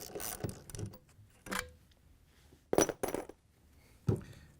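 Bolts being loosened on an LG/Kenmore front-load washer during seal replacement: a few scattered metallic ratchet clicks and clinks in short bursts, fairly close, with quiet pauses between them.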